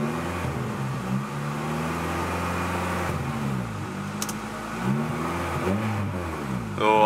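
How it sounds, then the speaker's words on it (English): An Acura Integra engine close by revs up repeatedly while bleeding the coolant system, its pitch climbing and falling in several rising sweeps over a steady idle rumble. "give it a couple revs too"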